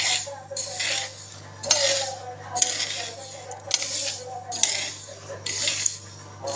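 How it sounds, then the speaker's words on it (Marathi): Fenugreek leaves are dry-roasted on a tawa, with a utensil repeatedly scraping and clinking against the metal pan in irregular bursts, close and moderately loud, with no talking. "मस्त भाजून घेते आता."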